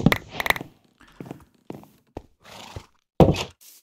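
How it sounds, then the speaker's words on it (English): Penned horses in Minecraft give several short, close neighs and whinnies in separate bursts, mixed with a few thudding clip-clop steps, with quiet gaps between them. "they even have horses all penned up"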